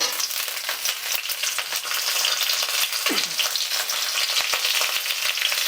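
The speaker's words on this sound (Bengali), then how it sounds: "গরম মশলা আর তেজপাতা একটু নাড়াচাড়া করে নেওয়ার পর আমি কেটে রাখা সবজিগুলো দিয়ে দিচ্ছি।" Chopped cauliflower, carrot and beans fry in hot oil with garam masala and two bay leaves, giving a steady, close sizzle with a few faint utensil scrapes and no voices.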